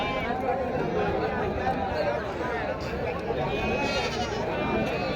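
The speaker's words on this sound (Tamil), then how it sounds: "செம்மறி ஆடு நல்ல பெரிய கடையில் வந்திருக்கு" Sheep bleating amid the steady crowd chatter of a busy livestock market, with calls rising from a dense, continuous background of voices and animal noise.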